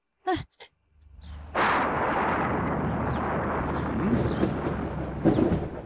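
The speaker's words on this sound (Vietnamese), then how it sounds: "Thời tiết đang rất tốt Tại sao lại có sấm sét chứ" Thunder in a costume drama: a couple of sharp cracks, then a loud rolling rumble that swells and lingers for several seconds.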